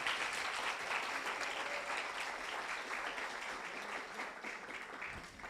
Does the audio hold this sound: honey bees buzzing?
no